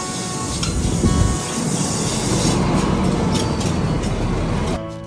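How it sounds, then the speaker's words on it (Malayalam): A steady, loud rumble and rushing hiss of a moving train carriage in Britain, bound for Manchester, continuous throughout and cutting off abruptly at the end. "അപ്പോൾ ഞാൻ ട്രെയിൻ കയറി"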